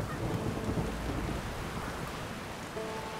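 Rain falls steadily in The Witcher 3 game world, a dense hiss of raindrops with a low rumble of thunder underneath, loud and continuous with no talking.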